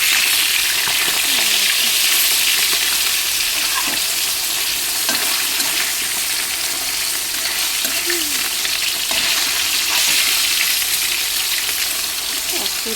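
Fish and potatoes fry in a pan, giving a continuous, even sizzle that holds steady and fairly loud throughout, with faint stirring scrapes now and then and no talk.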